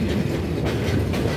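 Onboard clatter of the Chitra Express rolling into Ullapara railway station in Sirajganj district, a constant low rumble with rhythmic clickety-clack of wheels over rail joints, close and unbroken, no voices.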